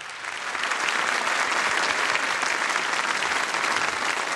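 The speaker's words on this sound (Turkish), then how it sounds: "Hadi bir daha kocaman bir alkış alalım." A large audience gives a big round of applause at a Turkish show, a dense, loud, continuous roar of clapping that swells in the first half second and holds steady.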